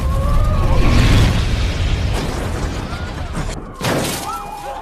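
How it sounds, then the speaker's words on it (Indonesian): A gas canister explodes in an action film scene, a loud roaring blast with crackling debris and rumbling that fades, then a second sharp burst and shattering near the end. "Art langsung menembak tabung gas yang ada di sana dan langsung terjadi ledakan di tempat tersebut, hingga Biggie pun hancur."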